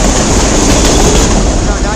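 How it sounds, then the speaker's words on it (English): A CN M301 westbound freight train passes close by in Emmett, Michigan, producing a loud, continuous roar of rolling wheels and rushing wind noise that fills the whole stretch. "it's here an M301 westbound train"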